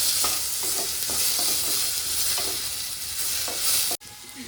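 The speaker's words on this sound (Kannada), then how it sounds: "ಈರುಳ್ಳಿ ಚೆನ್ನಾಗಿ ಫ್ರೈ ಮಾಡ್ಕೊಳ್ಳೋಣ" Chopped onions fry in a pan with a loud, steady hiss and light scraping stirs, then the sound cuts out abruptly near the end before resuming more quietly. No speech.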